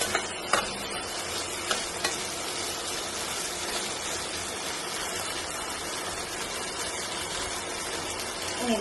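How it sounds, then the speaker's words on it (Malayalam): Fried chicken wings are stirred in a pan under a steady, dense sizzle, with a few sharp clinks and scrapes of the utensil now and then. "ഇതുപോലെ ഇളക്കി ചേർക്കാൻ മതി."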